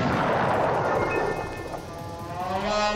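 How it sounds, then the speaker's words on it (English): A booming explosion in the Looney Tunes World of Mayhem video game, a loud burst that rumbles and decays over a few seconds as tonal game effects rise near the end. "is it going to be a straight explosion to the face?"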